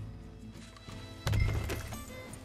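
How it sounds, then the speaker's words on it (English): Horse hooves thud and clop in Red Dead Redemption 2, with a loud burst of hoofbeats midway over a low rumble; no clear whinny stands out. "Get back on the horse."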